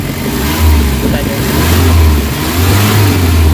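A Nissan Vanette engine with low power and throttle delay revs hard toward full throttle, a loud steady mid-pitched drone rising and easing in surges, close up, with a voice talking over it.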